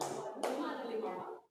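Hands clapping during a classroom counting clap game, with a few sharp claps ringing out amid overlapping voices.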